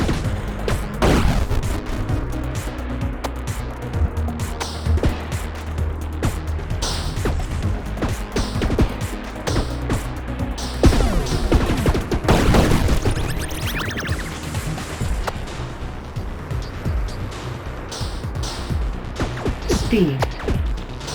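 Tank shots in the Atari game Quadratank, sharp repeated blasts and crashes scattered through a long stretch of busy game noise, loud and irregular, with a voice talking over them at times.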